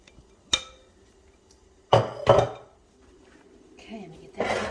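Clanks of a casserole dish of BBQ baked beans with bacon, hamburger and sausage being set into an oven, with a few sharp knocks and a closing thud amid quiet kitchen noise and brief talk.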